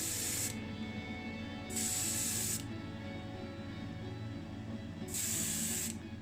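Short bursts of aerosol spray paint hiss onto a small Matchbox site hut truck model, three separate close sprays with quiet pauses and a soft background hum between them.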